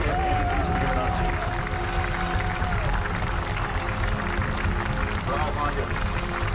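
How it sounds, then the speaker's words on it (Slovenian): A crowd applauds firefighter graduates after their final exercise, with steady clapping and cheering under someone talking loudly over a public address, a whistle-like tone drifting through early on. "To se je ravnokar zgodilo, zato potrebujemo velik aplavz"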